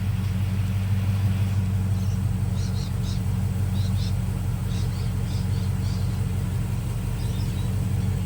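A car engine idles steadily after being cranked, a continuous low rumble with faint chirps above it.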